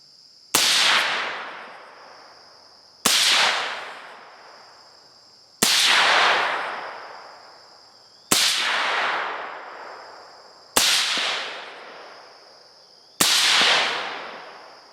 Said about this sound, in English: it's time to get behind this gun and put some rounds down range